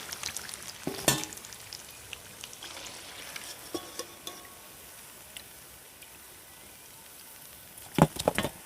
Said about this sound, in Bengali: ঠিক একইভাবে সেকেন্ড ব্যাচটাও ভেজে নিচ্ছি।